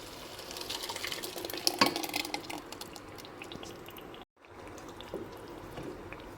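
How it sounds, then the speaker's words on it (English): Tomato puree is added to a pan of seasonings frying in oil, giving a soft wet splatter and gentle stirring sizzle, quiet and close, with a brief dropout partway through. "Then add in the tomato puree."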